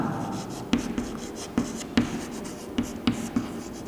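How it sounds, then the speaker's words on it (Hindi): Chalk taps and scrapes on a classroom board in a chemistry lecture, a series of about eight distinct sharp knocks spaced irregularly over quiet room tone, close and moderately loud, with no speech over them. "तो मैं लिख रहा हूँ"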